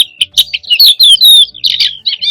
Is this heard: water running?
no